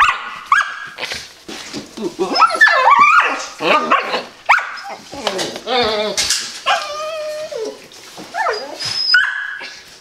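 Australian Shepherd puppies bark loudly and constantly, close by, with overlapping yips, high whines and whimpers coming in quick, irregular bursts and no pauses.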